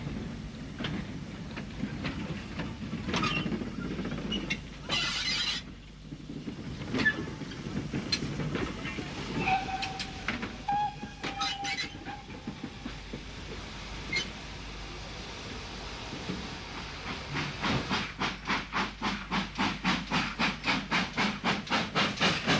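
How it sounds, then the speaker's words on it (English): Great Western Mogul and Manor steam locomotives back onto their train at Shrewsbury, with steady steam hiss and scattered metallic clanks, then a fast, even run of chuffs building toward the end. "Here the Mogul and the manor back onto their train."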